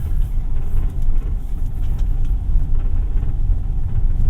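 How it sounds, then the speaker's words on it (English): A 2024 Kia Seltos EX rolls over a brick road at a fairly decent speed, giving a steady, close low rumble of tyres and cabin noise with no one talking. "So going over this brick road, you can definitely feel it because this is a smaller car."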